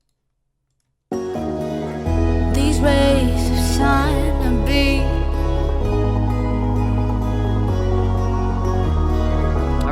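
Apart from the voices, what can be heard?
breakdown sub bass layer from Harmor Simple Bass preset, compressed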